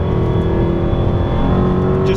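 A 2011 Jaguar XKR with 510 horsepower accelerates hard from inside the cabin, its engine a steady, loud drone that climbs slightly in pitch toward the end.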